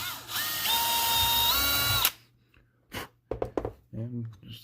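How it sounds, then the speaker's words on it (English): A power drill bores a hole in a DeWalt 20v tool, a loud close whine that climbs in pitch for about two seconds and then stops, followed by a few clicks and someone speaking. "I'm going to drill it the right ways"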